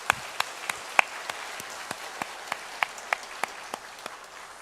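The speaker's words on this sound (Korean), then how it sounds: "우리가 이 시간 다시 한번 감사와 영광 박수 함께 올려드리면 어떨까요?" A church congregation at a Sunday morning service claps in thanks, sparse and scattered rather than massed: distinct individual claps ring out at an uneven rhythm over a soft room hush, moderately quiet and without talk.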